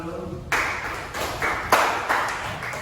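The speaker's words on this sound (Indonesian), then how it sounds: "luar biasa, tepuk tangan dulu." A school class claps hands together, bursts of clapping coming in a few uneven rhythmic waves that sound close and moderately loud, with a teacher's voice faintly underneath.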